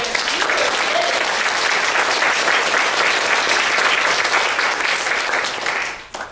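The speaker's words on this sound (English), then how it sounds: "join me in giving a big round of applause to the Institute of Texan Cultures on this beautiful day" Sustained, dense applause from a large audience at an Institute of Texan Cultures event, loud and steady for several seconds before tapering off abruptly at the end.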